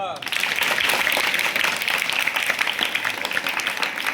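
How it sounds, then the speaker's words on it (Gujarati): Primary schoolchildren at a school gathering clap together in dense, sustained applause that lasts the whole stretch, with a voice speaking over it. "જોરદાર તાળી પાડો"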